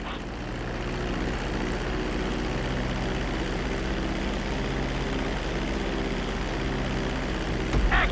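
A propeller airplane engine in GTA V flight school holds a steady, droning hum as the plane comes in to land on the runway, continuous and fairly loud with a faint thump at the end.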